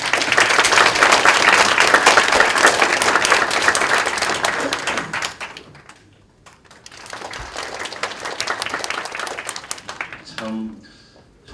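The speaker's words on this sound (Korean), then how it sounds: "뜨거운 박수를 맞이해주시기 바랍니다." A hall audience gives dense, loud applause at a Korean scholarship award ceremony. It eases off midway, swells again, then tapers out near the end.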